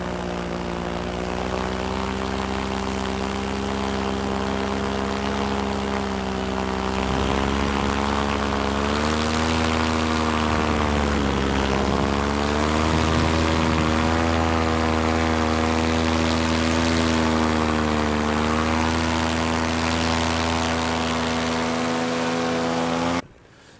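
A paramotor's engine and propeller drone continuously in flight, a loud buzzing tone with rising and falling pitch that holds for over twenty seconds before cutting off abruptly.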